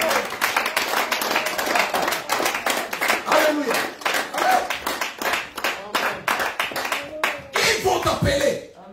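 A church congregation claps in a steady, rapid rhythm to acclaim the Lord, loud and close, with voices singing and calling out over the clapping.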